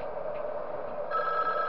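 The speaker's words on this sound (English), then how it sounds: "Alright, we get a phone call?" A ringing in-game telephone from the horror game Five Nights at Wario's keeps up a steady, close electronic trill with no pause for almost two seconds, and it gets louder partway through.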